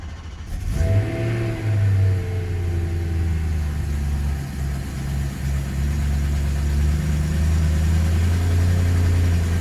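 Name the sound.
BMW E92 M3 engine cold start and idling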